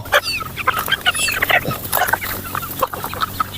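A three-month-old White Hatch gamefowl chicken clucks and calls repeatedly nearby, in short irregular bursts over a busy farmyard background.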